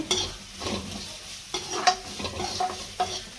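Grated coconut fries with onions in a pan while a spoon stirs it in repeated scraping strokes, a steady close sizzle running underneath.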